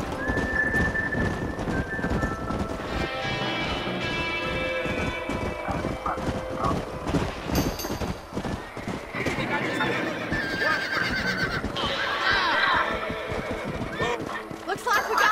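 Horse galloping in Red Dead Redemption, steady rapid hoofbeats with a neigh running under game music and voices talking throughout.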